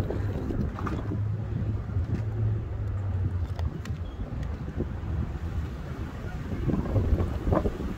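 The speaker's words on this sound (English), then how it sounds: "We're gonna fight this wind a little bit" Wind buffeting the microphone in a steady low roar outdoors, continuous throughout with slight swells, faint other sounds beneath and no clear talk.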